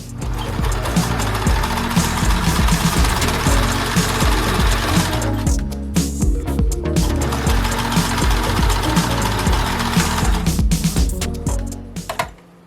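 A sewing machine runs steadily along a bedsheet skirt seam, its rapid needle chatter loud and close, pausing briefly around six seconds before resuming and trailing off near the end.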